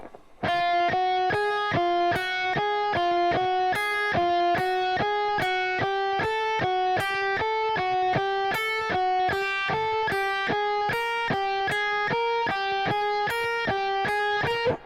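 Fast, even alternate picking on a distorted electric guitar, a steady stream of repeated notes with a shifting accent pattern, close and continuous.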